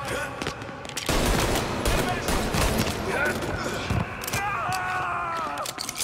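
Loud gunfire rattles through a shootout in Mafia Definitive Edition, with dense bursts of shots and a Tommy gun fusillade sounding close and continuous across the whole stretch.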